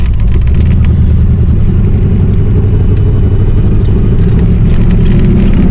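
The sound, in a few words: lifesize Hot Wheels C3 Corvette engine driving off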